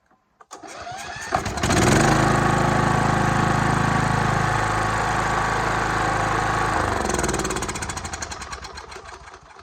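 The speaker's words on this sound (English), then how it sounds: "Okay, we got the new Hipa carburetor on it. Let's turn it over and see if this thing will crank." Kohler Courage small engine fitted with a new Hipa carburetor, cranking briefly then catching and running at a loud, steady, close rumble, easing off slightly toward the end.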